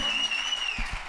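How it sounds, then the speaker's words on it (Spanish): A crowd applauds a singer at a televised singing-contest semi-final, a dense wash of clapping heard close. Stage tones ring beneath it and a couple of low thumps sound near the end. "Fuerte ese aplauso para Chantal Lafont"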